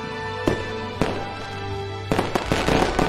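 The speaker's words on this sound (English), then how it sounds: "The fireworks are beautiful!" Cartoon fireworks burst in a series of sharp pops and crackles, a few isolated bangs at first followed by a denser cluster of bursts near the end, over a steady background tone.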